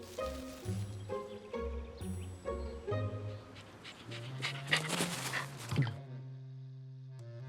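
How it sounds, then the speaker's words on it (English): A German Shepherd dog pants in quick, rhythmic breaths over soft background music, fairly close and moderately loud, with a few light thumps. "B. The German Shepherd. German Shepherds are smart."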